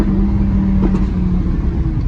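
A naturally aspirated Audi R8 engine hums with a deep, steady drone from close by, the tone wavering slightly, with no voices.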